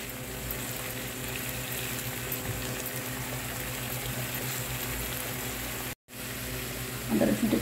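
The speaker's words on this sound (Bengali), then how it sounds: "আদা রসুনটা একটু ভেজে নেব।" Ginger and garlic paste fries in a pan for a rui fish bhuna curry, bubbling and hissing steadily up close, with one brief dropout and some stirring near the end.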